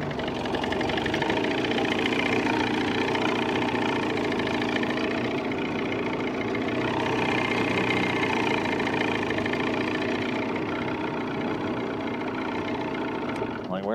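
A 1978 Evinrude 35 hp outboard motor runs steadily on test with the electric choke pulled out, a constant droning engine hum that holds level throughout at close range.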